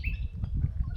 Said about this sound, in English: the sound of the wildlife, the birds,